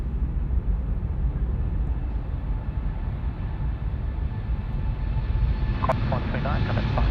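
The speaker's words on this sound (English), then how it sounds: "Here we go, Latam rolling. 34 right." LATAM airliner rolling for takeoff on runway 34 right at Sydney Airport, a steady broad jet roar at moderate distance, with a short burst of higher tones near the end.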